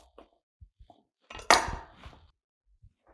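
A knife cuts bread into rough chunks on a board for panzanella, giving a few light taps followed by one louder, scraping crunch, close and dry with no talking.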